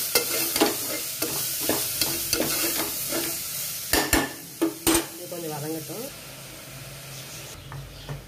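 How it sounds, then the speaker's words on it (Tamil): Cabbage, carrot and beetroot sautéing in a pan make a steady sizzle, with rhythmic scraping stirs and then a run of sharp metallic knocks of a spoon against the pan before things settle into a quieter sizzle. "வந்து முட்டைக்கோஸ் கேரட் பீட்ரூட் மூணு சேர்த்துருக்கேன்."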